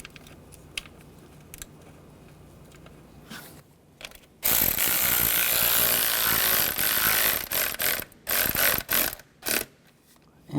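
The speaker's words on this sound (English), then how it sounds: "Using a 10mm socket, we'll tighten those down." A ratchet or power driver with a 10mm socket runs down screws on a 2011-2015 Chevy Cruze intake manifold, with light handling clicks first, then loud, close bursts of ratcheting broken by short gaps.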